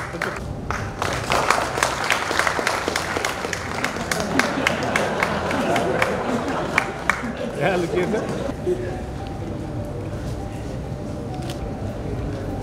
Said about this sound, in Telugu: ఒకసారి మనస్ఫూర్తిగా వాళ్ళకి చప్పట్లతో వెల్కమ్ చెప్పాలని కోరుకుంటూ ఓకేనా, నా చప్పట్లు కూడా రైట్.